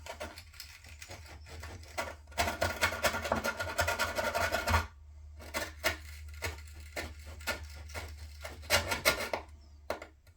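Screw holes in a wooden skateboard deck are widened with a rasping tool, giving close, dry scraping strokes in bursts with short pauses between them.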